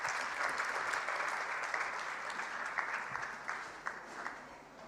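Dinner audience applauding the Prime Minister at a budget review dinner, a steady dense wash of clapping that carries through the whole stretch, with a few louder claps standing out near the end.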